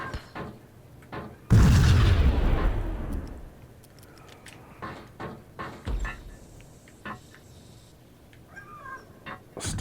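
A grenade bursts in the video game Max Payne, one loud, close boom that rolls off over a couple of seconds, followed by sparse sharp cracks and clicks from the game.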